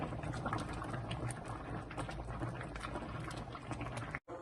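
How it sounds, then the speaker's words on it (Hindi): Carrot halwa simmering in milk bubbles and spatters in a pan, a dense, steady crackle of popping bubbles that holds close and even for a few seconds, with a brief drop near the end and no talking. "ये अब थोड़ा पकने लगा है, उड़ता भी है। देखिए कैसे छींटे पड़ रहे हैं"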